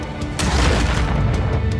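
A massive explosion from the mining co-op video game Deep Rock Galactic, a loud sustained boom with dense low rumble that swells and rolls on for nearly two seconds, with bright crackling debris bursts on top and no talk.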